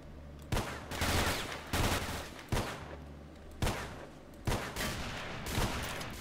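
A gunfire shootout in the Stalker video game, with loud shots cracking out roughly every second, each followed by a short reverberant tail, and sustained weapon noise between them.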